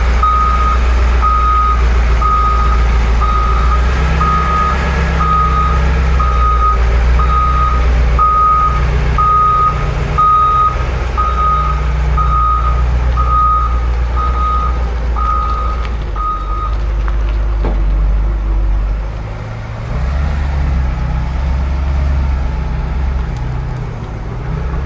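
An LVSR HEMTT military truck reversing to push another truck, its backup alarm beeping in a steady regular rhythm for most of the stretch over a loud low diesel rumble, then the beeping stops while the engine keeps idling.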